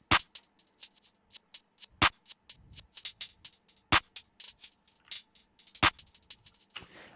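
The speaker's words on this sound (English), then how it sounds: "I'm playing it with the claps so you can hear like where everything is going." Reversed hi-hats swell up into a sparse ambient trap-style beat, punctuated by four sharp claps spaced about two seconds apart, with no voice over them.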